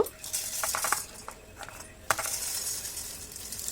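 Crispy fried flattened rice (chire bhaja) tipped into a bowl, a scatter of light, dry crunchy clatters and rattles with a few sharper clinks, fairly close and on its own.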